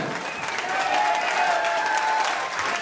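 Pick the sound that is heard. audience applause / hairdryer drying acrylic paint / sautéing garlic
audience applause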